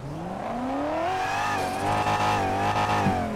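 Big turbo S10 drag car engine in GTA5 revs up with a rising pitch, then holds a loud, steady high-rev drone, close and with no talking over it.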